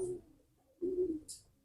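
A pet bird being sun-dried in its cage gives two low, soft coos with a quiet pause between them, fairly close and with no voices.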